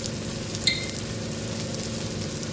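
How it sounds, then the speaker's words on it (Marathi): Konkani-style masala of turmeric, coriander powder and red chili powder roasts in oil in a pan. It gives a steady, even sizzle with one brief light clink of a spoon, and no one speaks. "तर पाहू शकता आपला मसाला छान भाजलेला आहे"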